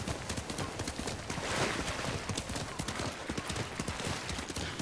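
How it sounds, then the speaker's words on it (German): Horse hooves clip-clop steadily while riding in the samurai video game Ghost of Tsushima, a continuous galloping rhythm of close, sharp beats over a low ambient bed. "weil ich muss jetzt ziemlich viel reiten mit einem Pferd"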